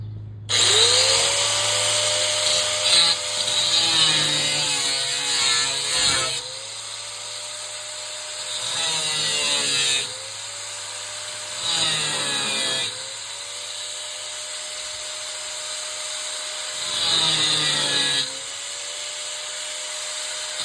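An angle grinder or similar power tool cuts out rusted floor metal on a 1985 Chevy Squarebody truck in short, plunging bursts, each whine rising, holding, then dropping away, with metallic rasping between cuts.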